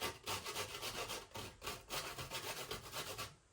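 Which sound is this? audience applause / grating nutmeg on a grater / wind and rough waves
grating nutmeg on a grater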